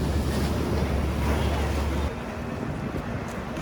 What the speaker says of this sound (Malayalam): നമുക്ക് പോകേണ്ട ബോട്ട് വന്നുകൊണ്ടിരിക്കുകയാണ്